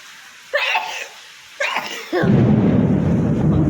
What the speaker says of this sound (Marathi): हे गडगड